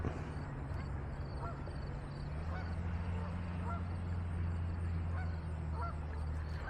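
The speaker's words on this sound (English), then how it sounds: "Like those majestic Canada gooses." Canada geese honk repeatedly at a river, their calls fairly distant over a steady low hum and outdoor background.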